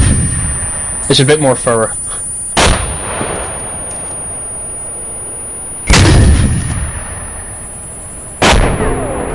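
Satchel charge explosions in a military video game: three loud, sudden booms that decay quickly, spaced a few seconds apart, with players' voices chatting in between.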